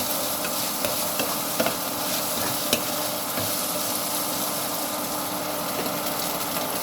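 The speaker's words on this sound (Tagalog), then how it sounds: "ating gisa-gisa lang" Vegetables sautéing in a pan give a constant crackling sizzle with faint scrapes of stirring, steady and close, with no voices.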